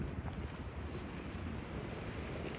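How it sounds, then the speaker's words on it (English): Strong wind roars outdoors, buffeting the microphone with a dense, steady rumble that stays loud and unbroken throughout. "It's been so windy today. Really windy, I have to say."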